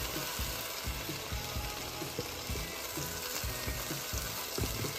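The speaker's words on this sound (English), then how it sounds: "And you can hear it cooking." Cocktail sausages (Smokies) cook in Sweet Baby Ray's barbecue sauce and grape jelly, giving a close, steady sizzle and bubbling with small pops throughout and no talking.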